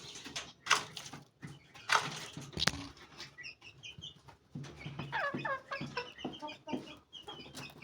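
A Golden Misri hen clucks in short bursts, with a few sharper squawks and some rustling or wing flaps nearby, no talking.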